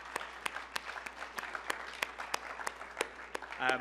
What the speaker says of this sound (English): if you join me in giving them all a big round of applause